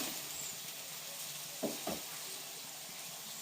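Onion and green chilli sizzle in hot oil in a frying pan, giving a soft, steady hiss with two quick louder crackles partway through.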